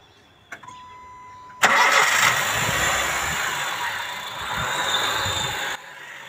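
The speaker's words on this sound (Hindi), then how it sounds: "जैसा कि आपने देखा गाड़ी स्टार्ट हो चुकी है" A 2010 Honda City engine cranks and catches after a couple of faint clicks, then settles into a loud, steady running rumble that continues for several seconds.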